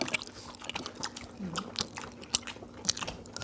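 Crisp crunchy bites into fried seaweed rolls (gimmari) dipped in tteokbokki sauce, close-up sharp crackles and chewing in irregular bursts, quiet and alone with no talk.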